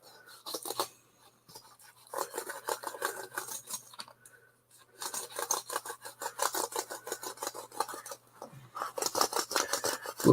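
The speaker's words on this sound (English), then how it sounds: "Probably all you can hear is me scrubbing the keyboard" A toothbrush scrubs a computer keyboard in fast bursts of dry rasping strokes, close and fairly quiet, with short pauses between the bursts.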